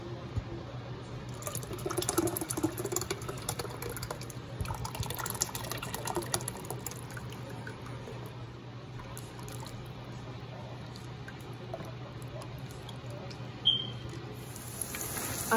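Chicken broth from cooking the chicken pours into a blender with a little chipotle chile for tortilla soup, a continuous soft liquid stream and splash at close range, with faint tapping near the end.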